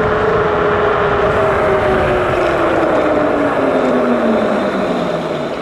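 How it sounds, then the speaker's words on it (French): Loud, continuous tire roar and whine from a 2025 Ride2 Angwatt C1 Max 6000W electric scooter at speed, a steady rushing drone with a slowly falling tone throughout; no speech. "Le bruit des pneus est aberrant."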